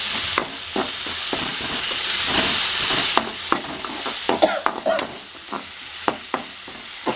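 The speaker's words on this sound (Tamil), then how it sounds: "வெங்காயம் கொஞ்சம் பாதி வதங்கினதுக்கப்புறம் இஞ்சி பூண்டு பேஸ்ட் போடுங்க" Onions fry with ginger garlic paste in a pan, with a steady close sizzle and frequent sharp scrapes and taps of a stirring utensil, with no talking.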